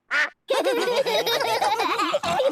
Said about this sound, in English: Daddy Pig, did you know you've got a duck on your head?